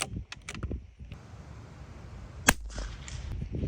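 A single suppressed .22 rifle shot from a Ruger Precision Rimfire fitted with a new suppressor, fired outdoors. It comes as one sharp, clean crack with a short tail, near and distinct over a low background hum.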